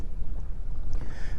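Strong steady wind at about 18 mph buffets the microphone on Folsom Lake while fishing from a boat, a loud low rumbling roar with gusty surges and faint water lapping, no talk.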